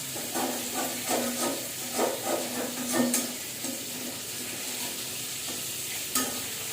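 Hilsa fish frying gently in a pan, a continuous soft sizzle broken by a series of rhythmic stirring or turning scrapes, close and fairly quiet.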